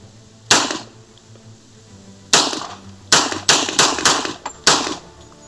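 A 107-year-old 1911 handgun fires seven sharp, loud shots close by, one, then a pause, then a quick irregular string of six, with no talk.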